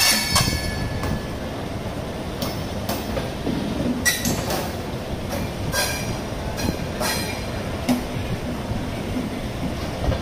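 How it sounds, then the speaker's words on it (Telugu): The Jammu Tawi–Tirupati Superfast Humsafar Express rolls through Tirupati railway station, with a continuous rumble of wheels and carriages, rhythmic clicks over rail joints and occasional sharp squeals, close and loud with no talk. "ఇది Jammu Tawi to Tirupati super fast హంసాఫర్ express"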